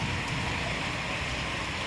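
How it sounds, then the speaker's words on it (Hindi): Heavy rain pours down in a dense, continuous roar of falling water, loud and close, steady from start to finish with no talking. "और तेज बारिश हो गई तुम लोग के आने के बाद"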